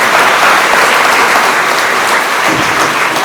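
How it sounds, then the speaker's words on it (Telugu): An audience at a school anti-drugs awareness programme in Toopran claps for the chief guest, a dense, loud, steady round of applause that fills the whole stretch without pause. "Give them big claps."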